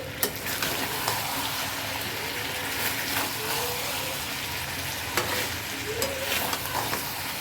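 Deshi chicken meat sautés in a pan with a steady sizzle and frying hiss, punctuated by occasional scrapes and clinks of stirring, close and without speech.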